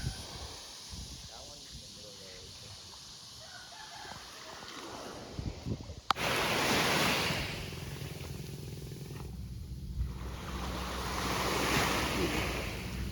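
Ocean waves at Coconut Beach in Palawan, a loud continuous rush of surf that swells and recedes, with wind noise and people talking over it in the first half.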